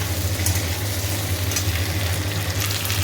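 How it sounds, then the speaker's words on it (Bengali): Small potato pieces and flat beans frying in oil in a pan, a continuous close sizzle with a low steady hum underneath, no voices. "শিমগুলো দিয়ে দিয়েছি, শিমগুলো একটু ভাজা হোক"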